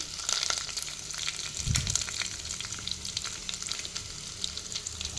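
Curry leaves, cumin and spices sizzling in hot oil for sambar, a steady crackling fry with occasional stirring scrapes, close and continuous.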